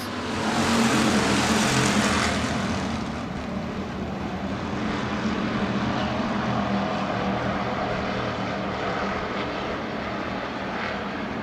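Hobby stock race cars roar off the green flag at Crawford County Speedway, a loud, sustained engine drone that swells early and then holds steady as the pack races past.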